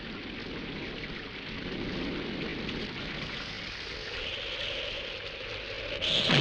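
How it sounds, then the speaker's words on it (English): Steady rain falls in a dense, even hiss from start to finish, with a low rumble underneath and no voices. "In this case, rain."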